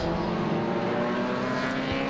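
Vintage racing cars, including a small MG and other historic sports racers, lap a circuit at a historic race meeting, with a steady, loud engine drone working hard for the full stretch and no talk.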